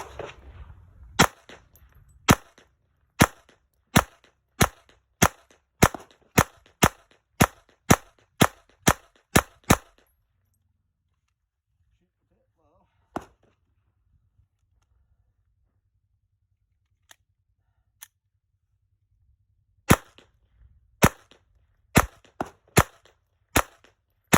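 Taurus TX22 .22 pistol fired outdoors: a fast string of about fifteen sharp cracks, then a pause with two or three isolated shots, then another quick burst of five or six shots at the end.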